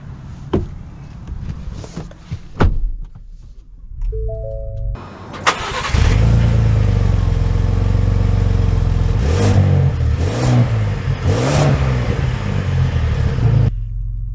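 A 2023 Ford Expedition Timberline SUV: a few clicks and thumps come first, then the engine cranks, catches and runs with a loud, close, deep rumble that swells slightly as it revs, with no speech.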